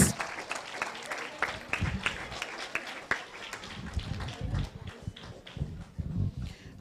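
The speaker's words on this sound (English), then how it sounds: "Can we get a round of applause for all of our children, all of our participants?" Applause for children at the close of a primary school quiz night, a steady patter of clapping from a small audience with talk mixed in throughout.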